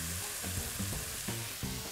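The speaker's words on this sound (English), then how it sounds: "we're just gonna fry them until they're golden brown" Pretzel sliders deep frying in hot oil, a steady close sizzle and bubbling crackle that continues without break, with no voices.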